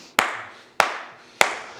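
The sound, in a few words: hand clapping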